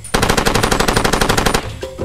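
Heavy-recoil turret gun in Far Cry 2 firing a fast, regular burst of about sixteen loud close shots, then cutting off abruptly into a quieter tail.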